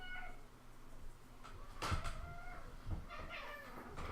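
A house cat meows several times nearby, in drawn-out and insistent calls, with a faint thump or knock between them in a quiet room.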